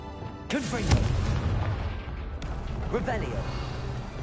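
Confringo spell blasts exploding in the video game Hogwarts Legacy, two booming impacts with whooshing, sparkling tails about two seconds apart, loud and near.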